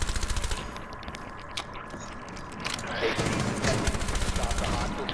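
Rapid gunfire in the tactical shooter Rainbow Six Siege: quick bursts of shots at the start and the end, with mechanical clicks and rattles between them, all under a talking voice.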